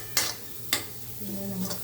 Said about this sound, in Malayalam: മസാലയൊന്ന് നല്ലപോലെ ഒന്ന് മൂത്ത് വരണം.